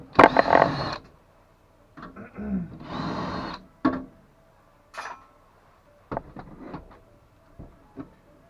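Casing of a 24 V 50 A industrial charger being opened, with scattered mechanical clicks, scrapes and brief tool whirs separated by quiet gaps, close and moderately loud.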